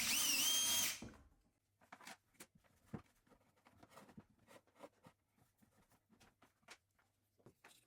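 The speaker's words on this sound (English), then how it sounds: "I then drill holes in the inner top edge of the reservoir." A power drill bores holes in the inner top edge of a plastic reservoir, starting with a loud whir that stops after a second, followed by scattered clicks, taps and scraping of plastic bits.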